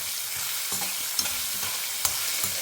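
Ginger fries in hot oil while being stirred for a South Indian chutney, a steady near sizzle broken by a few sharp spoon clicks against the pan, with no talking.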